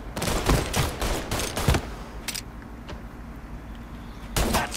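Gunfire crackles in Mafia 3 as a rapid cluster of loud shots. It is followed by a few sparser, distant-sounding reports and then another close burst at the end, over a continuous background rumble.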